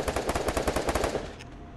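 Rapid automatic gunfire in the battle-royale shooter Garena Free Fire, a dense burst of evenly spaced shots for over a second before it cuts off, loud and close with no voices.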